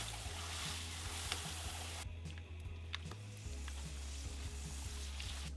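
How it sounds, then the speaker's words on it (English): Tortillas frying in a hot pan give a steady, loud sizzle throughout, broken by a few light clicks and pops as they are turned, with no voices. "we're going to start frying up our tortillas"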